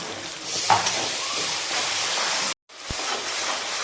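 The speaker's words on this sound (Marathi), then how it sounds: "आता त्यामध्ये मी टोमॅटोची प्युरी टाकते। टोमॅटोची प्युरी आपण चांगली परतून घेऊ।" Tomato puree sizzles steadily while being sautéed in a pan with ginger-garlic paste for street-style pav bhaji, a continuous close hiss with a brief stir clink and a short break near the end.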